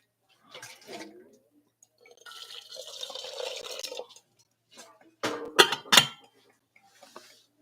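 Water poured in bursts while brewing coffee, with soft splashing and dripping between quieter gaps, a couple of sharper clinks near the end, close and fairly quiet.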